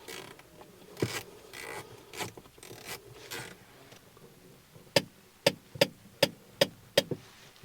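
Handbrake lever on a Fiat 500 being pulled up while its cables and drums are adjusted, first several scraping, ratcheting strokes and then a fast run of sharp, evenly spaced clicks heard close by.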